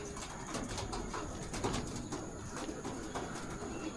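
Young racing pigeons in a loft coo softly and repeatedly, low throaty murmurs overlapping in an uneven rhythm, with faint rustling and a thin steady hum in the background.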